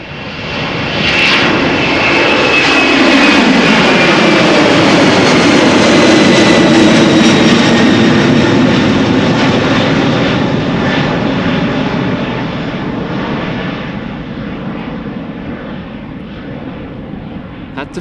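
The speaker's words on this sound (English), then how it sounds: "Boeing 767 EuroAtlantic Airways to Lisbon," EuroAtlantic Airways Boeing 767 bound for Lisbon climbing out from Schiphol runway 36L, a loud jet roar swelling as it passes overhead, its pitch sliding down before slowly fading, with talk over it.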